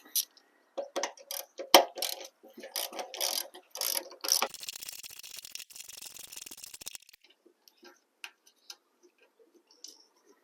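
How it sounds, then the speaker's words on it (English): A ratchet loosening a 10mm bolt on a Honda Odyssey fender, with close rapid clicks in short bursts, a rushing noise in the middle, and sparse faint taps toward the end. "And now we can go ahead and remove this 10mm bolt."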